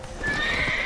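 A horse whinnies over a steady background of hooves and ambient noise, a drawn-out neigh in the soundscape of the video game The Witcher 3: Wild Hunt.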